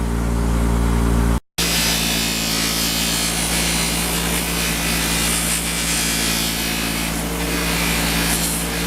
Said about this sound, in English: just by running these bolts on a buffing wheel for a minute or so, they'll come out looking brand new